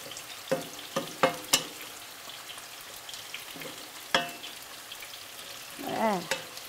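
Mushrooms frying in a pan alongside salted cod and potatoes, a soft, low sizzle punctuated by scattered clicks and scrapes of stirring, close and quiet.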